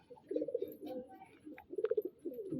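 A pigeon coos nearby in two soft, throaty bursts of rolling notes, separated by a short pause, with faint background activity.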